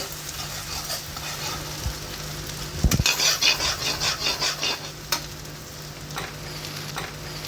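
Onions frying in a pan make a constant sizzle, then a loud scrape and a burst of rhythmic stirring strokes before the sizzle settles back with occasional clinks.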